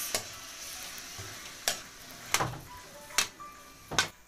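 Chicken pieces frying in a pan for chicken adobo with potatoes give a gentle steady sizzle, broken by about five sharp scrapes and knocks of a spatula spaced across the clip, close and without talk.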